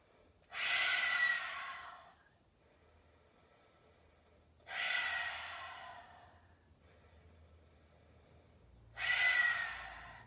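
Three slow, deep breaths during a yoga grounding practice, each a long airy exhale or sigh rising and fading, spaced several seconds apart with quiet between.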